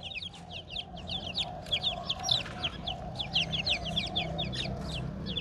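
Farmyard chickens, including newly hatched chicks from nine-spurred stock raised by ducks, keep up steady clucking and high chirping calls throughout, fairly close and continuous, with no talking.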